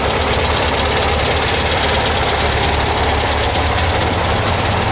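A Porsche 912 engine idles at its correct RPM after clean idle jets were fitted, a loud, dense, even rumble with a fine mechanical ticking, recorded up close with no talking.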